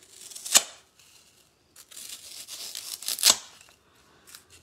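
Scissors cutting through a fibrous peat pot, two sharp crunching snips about three seconds apart with quieter rustling and trimming between them, close and alone.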